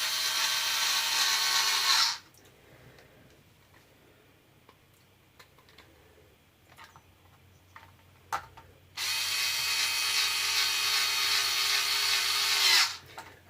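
A power driver whirs in two bursts while tightening screws on the radio tray of a Hobao Hyper nitro RC car, with quiet ticks and handling clicks between them.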